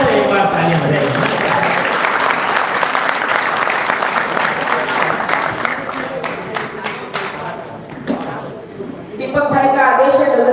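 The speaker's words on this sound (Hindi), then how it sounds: "सुमित्रा को सुनना चाहते हो तो एक बार तालियां बजाइए।" Sustained audience applause at a Hindi poetry recital (kavi sammelan) in Singoli, dense clapping filling the hall for about eight seconds before fading, followed by a voice speaking.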